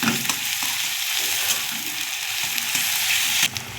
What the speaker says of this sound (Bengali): রসুনটা ভাজবো।